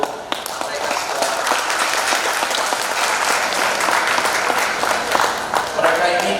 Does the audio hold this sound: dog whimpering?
no